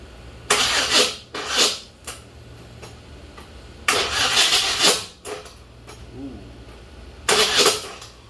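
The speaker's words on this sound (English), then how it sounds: "Well, still not starting. Getting fire and not starting." A Chevy S-10 donor truck engine cranks without catching, in three separate raspy bursts of starter churning with short pauses between them, close by and fairly loud.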